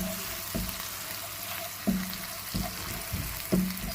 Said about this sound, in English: we'll be adding onion paste, caramelized onion paste